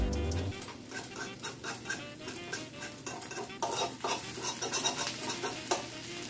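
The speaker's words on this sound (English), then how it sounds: "let's scramble that egg in the middle there" Egg being scrambled in a hot pan while making shrimp fried rice, with steady scraping and stirring of a utensil against the pan over a soft sizzle, close and moderately loud.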